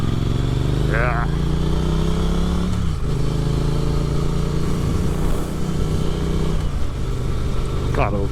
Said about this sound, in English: It has one of the best stock exhaust sounds on the market.